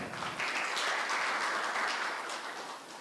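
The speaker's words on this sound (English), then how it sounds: "So they deserve a clap" Audience clapping at a Kenyan justice-sector launch event, a steady dense wash of applause that holds for about three seconds and stays fairly loud throughout.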